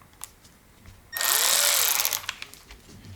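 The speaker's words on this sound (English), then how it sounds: "So this is a 3/8 inch cordless ratchet." A 3/8 inch cordless ratchet runs in one close burst of about a second, a whirring electric motor buzz starting abruptly and winding down, with faint handling clicks before and after.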